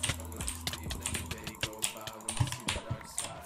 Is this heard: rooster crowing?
no